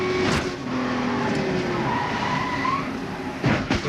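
A race car skids at Daytona and slams hard into the outside wall, with a sustained tire and engine roar that swells into sharp impact bursts near the end.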